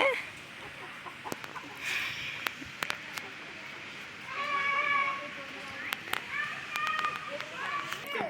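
Frightened chickens raised up above squawk and cluck in agitated bursts while coconut leaves are cut nearby. Their calls are close and overlapping, with voices in the background.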